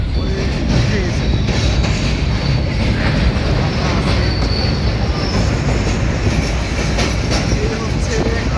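Train crossing an old British-era railway bridge near the Rooppur nuclear power plant, a loud continuous rumble and rattle of wheels heard from on board, steady throughout.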